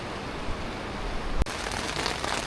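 Rain begins pattering on a tent on a mountain trip in Børgefjell, a dense steady hiss of drops close by with one sharp tap partway through.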